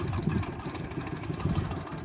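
A twelve-year-old Hero Splendor motorcycle engine runs steadily and close by, a continuous low, throbbing putter with slight surges in revving and no voices over it.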